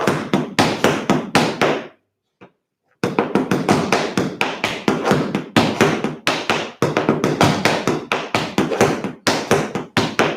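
Tap shoes strike a hard floor in quick rhythmic bursts of sharp taps, heel scuffs and flaps, with a brief pause near the two-second mark before the steady pattern resumes, close and loud.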